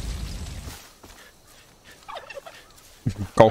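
A turkey in the video game Far Cry 5 gobbles in a couple of short bursts, the rapid warbling call loud and close toward the end, after quieter game sounds.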